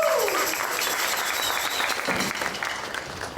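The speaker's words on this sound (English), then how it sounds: "let's have one big hand of applause for your parents and all your folks" Applause at a school jazz intensive concert, honoring the students' parents and families: steady, dense clapping from the audience filling the hall, loud and sustained throughout before easing slightly at the end.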